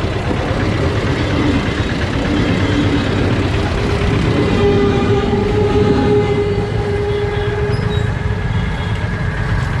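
A Kalyani Simanta local train runs nearby in Kalyani, a loud, steady rumbling roll of wheels on track lasting throughout, with faint tonal whines rising over it midway.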